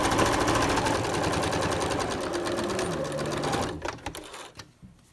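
A sewing machine runs in a steady, fast mechanical whir while stitching a cloth mask along the fabric edge, then stops into a few short clicks and handling knocks.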